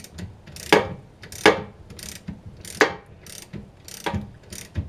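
A socket wrench ratchets bolts off a 1974 Saab Sonett III parts car during rear axle, brake and exhaust removal, giving sharp clicking strokes in an uneven rhythm, close and moderately loud.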